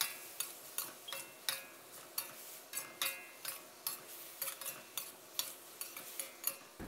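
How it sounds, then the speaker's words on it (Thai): A spatula scrapes and clacks against a pan in quick, repeated strokes as cauliflower and pork belly are stir-fried and tossed, with a faint hiss underneath. "แล้วก็ผัดคลุกเคล้าให้เข้ากันนะครับ"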